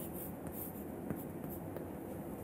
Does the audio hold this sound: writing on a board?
yes